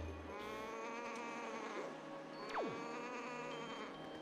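Strange bird call resembling a goat's bleat, a sweeping descending cry heard once over a steady background hum, fairly close and clear.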